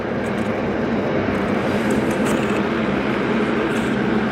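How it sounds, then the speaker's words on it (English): Rex airliner starting up at Sydney Airport, a loud continuous broadband engine roar that holds steady without pause, heard from nearby with no talking. "the Rex just starting up, making all the noise."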